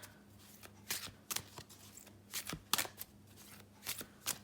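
Tarot cards shuffled close by in short, papery bursts of riffling and sliding, with irregular pauses between handfuls; no one speaks.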